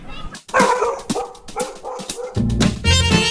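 Several puppies yip and bark in quick, uneven bursts at close range, with a lower, steadier whining or growling layer joining near the end.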